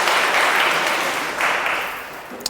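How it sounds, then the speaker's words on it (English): Audience applause fills a lecture hall, a dense burst of clapping that starts full and gradually tapers off over a couple of seconds, ending with a sharp isolated sound. "Everyone give Paul a round of applause."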